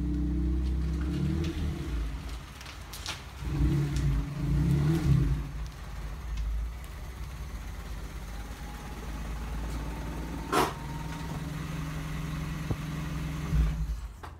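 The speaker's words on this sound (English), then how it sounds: "the car is running sketchy, like really, really sketchy" Honda Civic engine running rough, a low, uneven idle with surging revs and hesitant bursts, close and continuous with occasional knocks.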